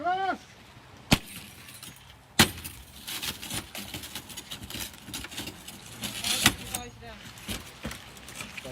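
Car window glass breaks during a road traffic collision extrication by a fire crew, with sharp cracking impacts and crunching, tinkling debris, while rescuers talk nearby.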